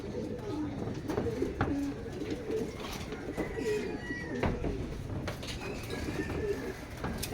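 Racing pigeons coo repeatedly at a training session, in soft, low, throaty calls near and far, mixed with light wing flutters and scattered knocks against a busy outdoor background.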